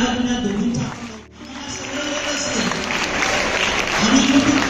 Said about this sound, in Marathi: एका जोरदार टाळ्या तुम्ही दोघींचा